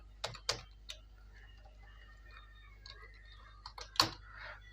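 Scattered keystrokes on a computer keyboard while entering words into an Excel spreadsheet, a few sharp clicks spaced irregularly over a quiet room hum, no talking.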